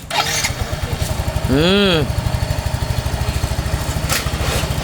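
A motorcycle engine cranks and catches, its pitch sweeping up and back down in a sharp rev before settling into a steady, loud idle close by, with people talking over the running engine.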